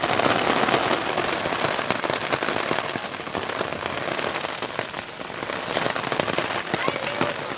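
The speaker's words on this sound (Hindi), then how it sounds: "इसे कह सकते हैं तूफ़ानी बारिश।" Heavy stormy rain pours down steadily in a village in Punjab, Pakistan, hissing and pattering hard on surfaces with sharp drops cracking throughout, loud and close.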